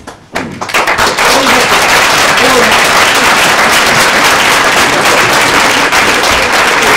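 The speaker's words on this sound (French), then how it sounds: "Alors on va applaudir toute cette équipe des Compagnons du Vaughaillard" Audience applause for an amateur theatre troupe after a comedy performance, a sudden loud burst of dense, sustained clapping that fills the hall, steady and close, with scattered voices mixed in.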